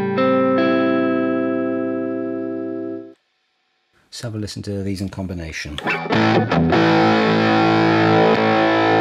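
An electric guitar played through a homemade Fuzz Face pedal, germanium transistor in front and silicon at the output, rings a sustained distorted chord, falls silent, then breaks into loud, gritty fuzzed strumming while someone speaks briefly.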